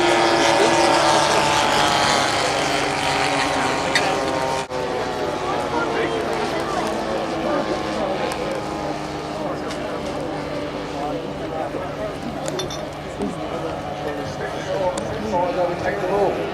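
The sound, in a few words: model aircraft engines, Evolution and ZT engines, flying display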